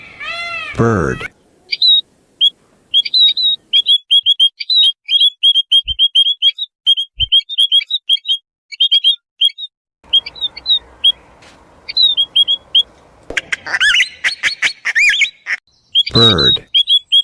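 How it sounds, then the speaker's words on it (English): Repeated bird chirps and squawky calls, a quick string of short tweets close to the microphone, with brief gaps and a burst of louder harsh calls near the end. "Bird."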